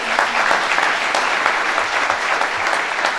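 Audience applause at a sports awards ceremony in Salzkotten, a dense, steady clapping from a sizable crowd that sounds close and keeps going evenly without a break.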